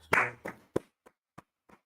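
A handful of people at a talk about Jesus Christ clap briefly in a small room, a short burst that quickly thins into a few scattered, isolated claps, fairly quiet and close.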